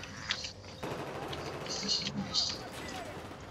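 Gunfire in the video game Battlefield 4 inside Operation Locker, with scattered shots and short bursts mixed with a continuous in-game background roar. It is moderately loud, with players talking over it.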